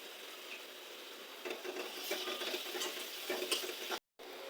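Chopped onion hits hot oil and is stirred, a faint close frying hiss with scattered ticks and scrapes of the spoon, broken by a short dropout near the end.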